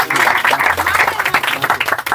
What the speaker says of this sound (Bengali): যত হাততালি।